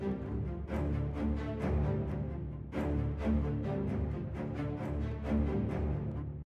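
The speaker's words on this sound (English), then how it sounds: "One is an ensemble patch from Album 1, using high strings and low strings." A string ensemble plays sustained chords, with high and low strings blending together in a full, even orchestral texture.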